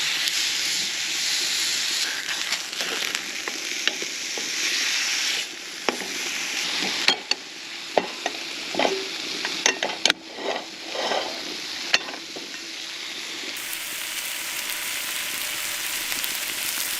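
Mushrooms, potatoes and steaks fry in a pan at a campsite, giving a steady, close sizzle and hiss with occasional stirring clicks and scrapes throughout.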